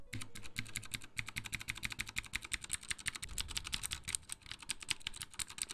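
Rapid clicky typing on a mechanical keyboard fitted with blue switches, a dense stream of crisp, close keystrokes in uneven bursts, heard alone without talking.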